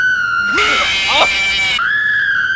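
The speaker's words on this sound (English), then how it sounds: "They're screaming! Why are they screaming?" Animatronic characters in a horror video game let out a loud, sustained shrieking scream lasting over a second, with a higher electronic whine running before and after.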